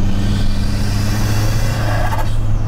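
A Daewoo Matiz fitted with a new turbo engine accelerates on the road, a loud steady engine drone with a low hum filling the cabin, with no one speaking.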